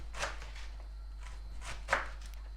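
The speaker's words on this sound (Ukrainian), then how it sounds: "Натираємо, нарізаємо, нарізаємо капусту." Several sharp knife chops through cabbage on a board, uneven and spaced out, with one louder strike near the end; no talking.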